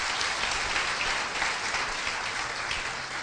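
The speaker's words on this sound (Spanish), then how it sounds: "Denle un aplauso fuerte al Señor" A church congregation applauds during a sermon, a steady, dense wash of clapping from many hands that holds at an even level throughout.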